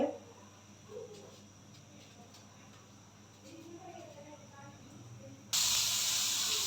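Three pieces of rohu fish fry in a pan, a soft sizzle under quiet background noise, then a loud, close, steady burst of hissing spatter in the final second or so.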